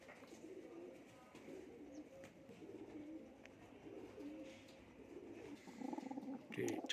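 Pigeons of many colours coo faintly in a loft, a low murmuring that goes on and grows a little louder near the end.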